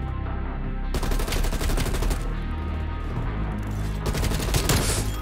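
XM4 assault rifle fire in Black Ops Cold War: loud, close automatic bursts separated by short pauses, with dense overlapping shots and a steady roar of gunfire throughout.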